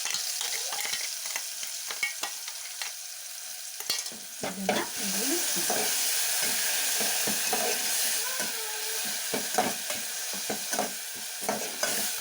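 Tomato sambar masala frying in a pan on medium flame, a steady close sizzle broken by repeated scraping stirs and clinks of the spoon.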